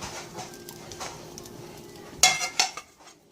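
An omelette flipped out of a pan onto a waiting plate gives two sharp, clattering knocks of pan against plate close together near the end, after a stretch of quiet kitchen background.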